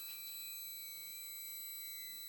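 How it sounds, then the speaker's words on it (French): An RC radio transmitter for a Losi Promoto MX motorcycle emits a steady, high electronic beeping tone, continuous and close, with no talking. "la radio elle fait bip bip"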